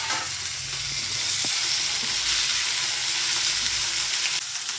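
Onion, mint leaves and coriander fry in a hot pan for a vegetable curry, giving a steady, close sizzle with a few soft stirring scrapes, and nobody speaks.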